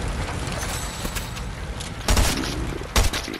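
Sharp booms and bursts of gunfire in a no-build shooter video game, two loud hits standing out over a steady, busy background of in-game noise.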